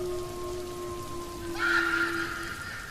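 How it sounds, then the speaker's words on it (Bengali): Steady rain hisses throughout, joined by a sustained tone and a brief swell of louder noise. "আকাশ ভেঙে বৃষ্টি হচ্ছে"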